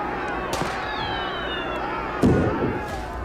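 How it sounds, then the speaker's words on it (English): Fireworks fired at police in the RIOT: Civil Unrest video game, with whistling rockets followed by a loud burst near the end over a murmuring crowd background. "Quite aggressive there with the fireworks."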